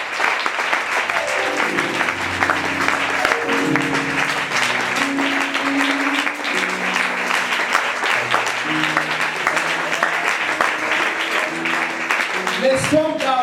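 A church congregation applauds the Lord during worship, with steady, continuous clapping that fills the space over sustained music for the whole stretch.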